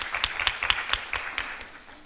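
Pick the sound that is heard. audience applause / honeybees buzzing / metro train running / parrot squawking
audience applause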